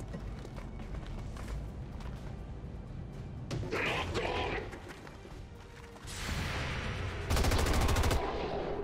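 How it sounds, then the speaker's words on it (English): Light machine gun fire in XCOM 2 hammers out in dense bursts, with loud rapid volleys near the end and impacts and crashes mixed through a busy game soundscape. "Good LMG shots."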